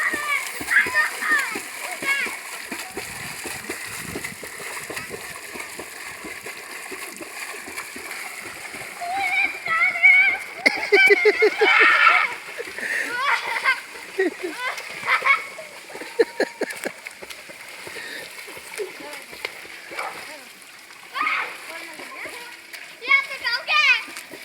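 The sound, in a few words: child swimming and splashing in a pond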